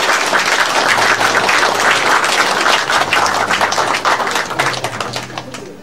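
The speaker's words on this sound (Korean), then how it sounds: "여러분 크게 박수로 안내해 주십시오" An audience at a small book concert breaks into loud, steady applause as a guest is welcomed onto the stage, dense and sustained before easing off near the end.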